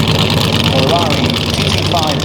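1952 Ferrari 225S Berlinetta Vignale with Colombo V12 engine running at a concours event at Blenheim Palace, a steady mechanical drone heard beneath continuous nearby talk.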